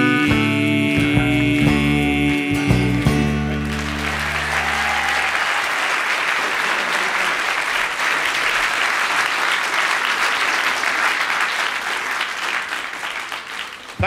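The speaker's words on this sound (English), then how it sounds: "You were clapping the best there." Concert audience breaking into sustained clapping as a live performance of a song ends, the applause swelling in after the last music fades and continuing thick and steady throughout.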